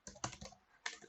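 Quick keystrokes on a computer keyboard come in a short, faint burst of a few close clicks, a brief pause, then another tap.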